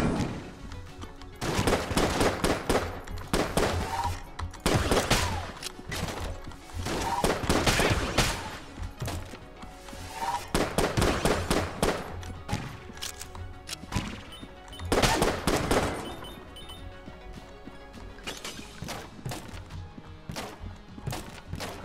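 Constant rapid gunfire from the Enter the Gungeon video game, with dense, loud volleys of bursting shots that rise and fall in waves over about twenty seconds.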